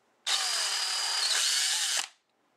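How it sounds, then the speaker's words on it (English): A drill fitted with a sanding attachment grinds against a duct on a Skymasters 1/7 scale F-4E turbine twin EDF model jet, giving one steady, close, high-pitched whir that lasts nearly two seconds before spinning down. "so I'll be using my drill with the sander on there"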